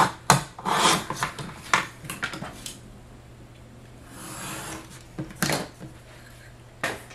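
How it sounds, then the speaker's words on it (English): Scrap piece of wood being cut to length for a box build, heard as a series of close, irregular rasping strokes with short pauses and a longer grinding stretch midway, no talking. "So I'm going to cut it to 2 inches."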